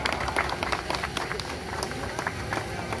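Audience applause at a Republic Day prize ceremony, a dense steady patter of many hands clapping with crowd noise and voices mixed in throughout.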